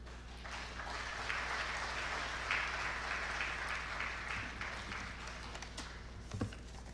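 Audience applause at a Chartered Institute of Stockbrokers national workshop as a speaker steps down: steady, moderately distant clapping from a hall crowd that fades slightly toward the end.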